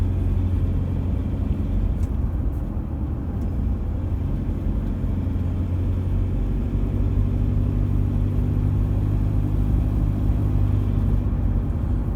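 Warm Toyota 1KD diesel engine idling with its normal rattle, a steady low rumbling clatter that runs loud and unbroken throughout, close up with no voices.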